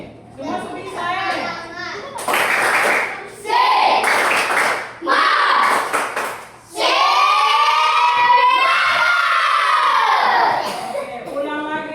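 A group of children clap their hands together in a classroom, bursts of applause alternating with a voice and children's chatter.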